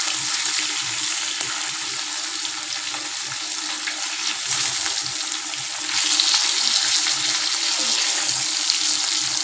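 Tilapia fries in hot oil in a pan, giving a dense, continuous hiss and crackle that runs steadily and stays close and loud, with no talking.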